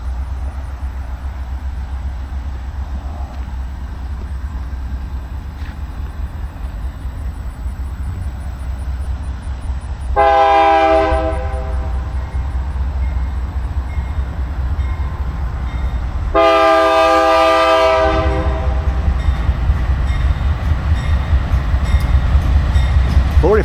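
A passing train sounds its horn in two long, loud blasts over a steady rumble of rolling wheels, heard outdoors from a summer park, with the rail noise swelling as the train draws nearer.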